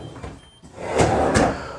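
A narrow kitchen drawer beside the sink slides open or shut, giving two soft scraping, rolling pulls about half a second apart over quiet room tone.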